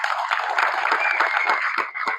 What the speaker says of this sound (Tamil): அதுக்கே தனியா நீங்க அவருக்கு ஒரு கைத்தட்டல் கொடுக்கணும்.